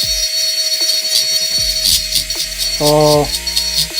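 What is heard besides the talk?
micro motor rotary carving tool running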